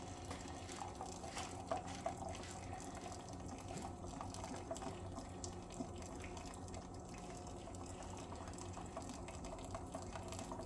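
Water steadily poured into a French press of coffee at home, a continuous soft liquid trickle and fill sound, fairly quiet and even throughout with no talking.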